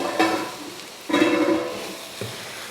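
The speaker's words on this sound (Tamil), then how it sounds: "வதக்கி விட்டதுக்கு அப்புறமா வெண்டைக்காயும் கத்திரிக்காயும் இதில் சேர்த்துடலாம்." Okra and eggplant sautéing in a masala with tomato in a pan, two bursts of sizzling and stirring with a brief clink, close and fairly loud, no speech.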